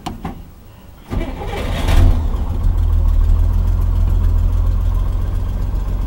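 A vehicle engine cranks briefly, catches and fires right up, then settles into a steady, deep, rumbling idle heard close and continuous for several seconds.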